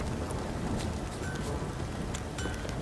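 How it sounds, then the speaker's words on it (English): Heavy rain pours down in The Witcher 3 video game, a dense, even hiss of falling water with no voices. "This downpour's a bastard"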